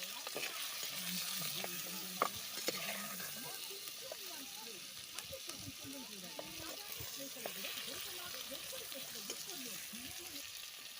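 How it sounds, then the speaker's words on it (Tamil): Vegetables sautéing in oil in a pan while being stirred, a soft continuous sizzle with scattered scraping taps, fairly quiet, with a person talking over it. "நல்லா எண்ணெயிலே போட்டு வதக்கும்"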